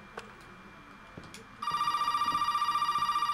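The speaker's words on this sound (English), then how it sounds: "Phone." A telephone rings in the Resident Evil 7 survival horror game, a steady electronic trill that starts partway through and repeats in a fast pulsing rhythm, loud and close, after a stretch of quiet ambient noise.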